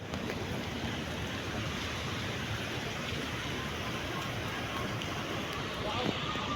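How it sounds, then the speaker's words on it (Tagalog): Strong wind drives rain in a dense, steady wash of noise, with a voice faintly present underneath. "Sobrang lakas ho kasi ng hangin."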